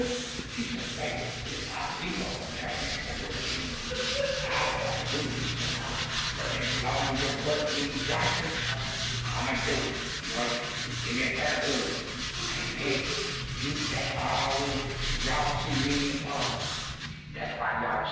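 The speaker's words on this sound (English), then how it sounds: "let me get sandpaper set up and we'll get busy" Sandpaper rubs steadily across the body of a Chevrolet Biscayne being prepped for the paint booth, with long rhythmic strokes that stay loud and close for the whole stretch.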